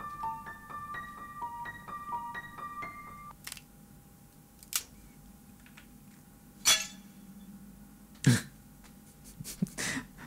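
A plate is used to imitate breaking glass in a sound-effects demonstration. Brief tinkling tones come first, then several sharp crashes and clinks, loud and close, separated by short quiet gaps.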